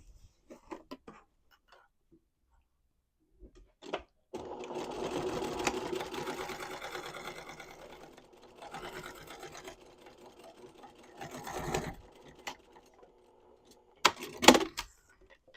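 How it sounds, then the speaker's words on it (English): Sewing machine back-stitching a pocket seam on a knit tote bag, running in several short bursts with brief pauses between them and ending in quick clicks, close and fairly quiet. "we're going to back stitch really well at the beginning and especially the end right here"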